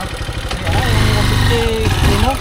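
A motorcycle engine idles close by with a steady low rumble through the whole moment, under several people talking over it.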